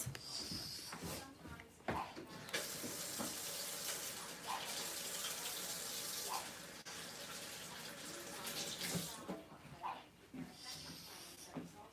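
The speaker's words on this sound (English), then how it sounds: "I need to wash my hands." Tap water runs steadily from a faucet as hands are washed, a continuous hiss of flow lasting several seconds with faint clatter and background voices before and after.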